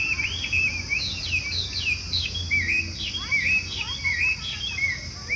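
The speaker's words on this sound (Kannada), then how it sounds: "ಎಲ್ಲದಕ್ಕಿಂತ ಈ ಪಕ್ಷಿ ಕೂಗಿ ಚೆನ್ನಾಗಿದೆ." Several birds chirp and call in a park at Murugha Vana near Chitradurga, with steady, overlapping tweets and short trills at moderate distance over a low outdoor hum, with no talking.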